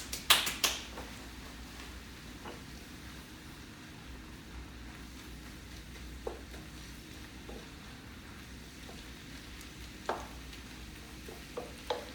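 Thinly chopped beef and vegetables for a Philly cheesesteak sizzle in a pan with a steady, close hiss, broken by a few sharp utensil clicks and taps as the meat is stirred, with no voices.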